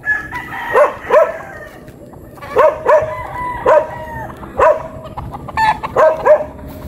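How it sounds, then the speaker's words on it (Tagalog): Roosters crow repeatedly among other chickens on a gamefowl farm, with white Kelso birds nearby; several overlapping cock-a-doodle-doo calls come in bursts, fairly close and loud, over a low background of clucking. "Ito pa yung ibang manok"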